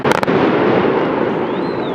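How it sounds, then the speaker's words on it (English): Fireworks go off over a lake: two sharp pops open a thick, sustained roaring rumble of bursts and crackle that fills the whole stretch, loud and close, with a faint whistle rising near the end. "They're doing fireworks."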